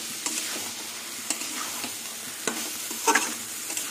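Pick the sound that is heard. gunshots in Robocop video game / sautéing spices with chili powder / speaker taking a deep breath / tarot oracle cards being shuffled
sautéing spices with chili powder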